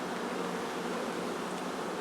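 Continuous honeybee buzzing hangs around an open hive of a newly split colony, a dense, steady drone heard alone at close range.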